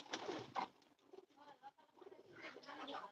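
Pigeons coo softly in a pigeon loft, low murmuring calls repeating close by in an otherwise quiet space, with no talk over them.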